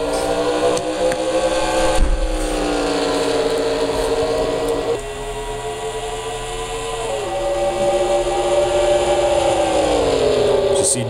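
NASCAR race cars in a video game accelerating together at a restart at Indianapolis, a loud sustained engine roar with rising and shifting pitch as gears change, a commentator's voice faintly present underneath.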